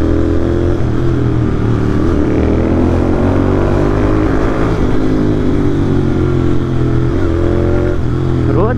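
Motorcycle ride through city streets, including a metro tunnel, on a bike with soft suspension over potholed roads; a steady, loud close engine drone with wind and traffic rumble, continuous throughout without pauses.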